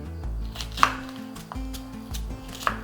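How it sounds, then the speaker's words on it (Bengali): A knife chops capsicum on a board in a few sharp, separate cuts over a low, steady hum of background music. "এটা ঠান্ডা হতে হতে এরই মধ্যে আমি একটা ক্যাপসিকামকে কুচি করে নেব।"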